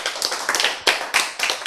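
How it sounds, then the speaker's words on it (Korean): A church lecture audience claps in a quick, irregular burst of applause, loud and close, with no voices over it. "박수!"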